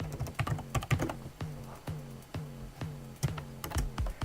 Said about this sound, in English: So we're just gonna type thank you for watching.